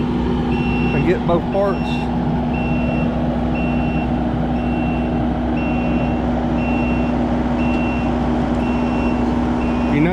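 A Kubota backs onto a tilt trailer hitched to a truck, its reversing alarm beeping steadily and evenly over a constant engine rumble, with a short spoken remark near the start.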